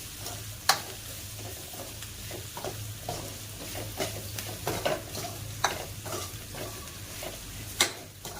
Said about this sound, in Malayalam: എന്നിട്ടൊന്ന് ഇളക്കാം.